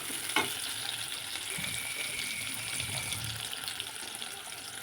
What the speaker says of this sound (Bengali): ছোটো ছোটো দুটো পেঁয়াজ ভেজে নিচ্ছি কেটে গোটা